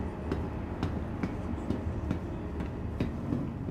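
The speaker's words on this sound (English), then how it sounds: "Oh, the tram arrives." A tram rolls into a station in the sci-fi video game Star Citizen, a steady rumbling rail drone with regular clacking clicks as the cars pass, moderately loud and continuous.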